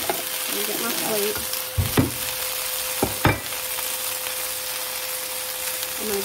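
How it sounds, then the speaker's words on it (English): Steady crackling sizzle of chicken stir fry flash frying in a hot pan over high heat, with a few sharp clanks of a utensil against the pan and faint voices in the background. "The high heat, the quick flash frying, you're trying to get everything to cook fast"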